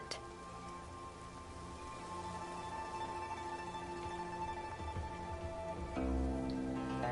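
Rain falls in the video game Infinity Nikki, a soft, steady patter heard quietly beneath sustained game music tones, with no voices.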